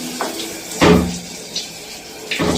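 Water runs from a tap in a kitchen in short, close bursts, as if the faucet is switched on and off, with quiet gaps between the gushes and no talking.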